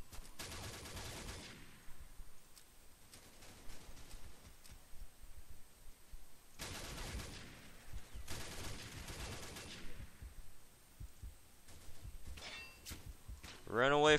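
Gunfire in the online shooter Combat Arms, several loud bursts of rapid firing spaced apart by quieter stretches, with a sharp voice near the end.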